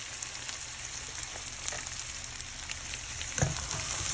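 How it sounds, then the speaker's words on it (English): Beans fry in hot oil over a fire, giving a continuous close sizzle with a brief burst of louder crackling as they are stirred. "When it's warm, like right now it's already warm, you stir in the beans"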